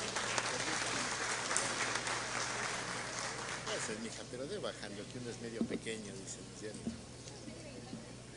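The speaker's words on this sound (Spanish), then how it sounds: "Brindémosle un fuerte aplauso, por favor." Applause from the crowd at the inauguration of the Pastaza provincial festival in Ecuador, a broad wash of clapping that fades after a few seconds while a voice talks over it and a low steady hum runs underneath.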